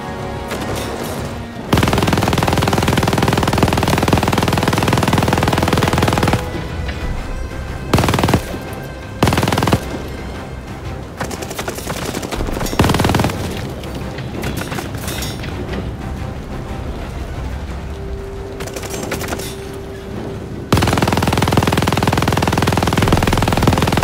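A turret-mounted machine gun in Call of Duty: Vanguard rattles loudly in long sustained bursts, broken by a few short pauses, with heavy battle noise between the bursts.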